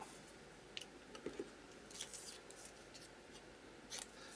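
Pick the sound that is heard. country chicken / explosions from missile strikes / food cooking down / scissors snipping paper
scissors snipping paper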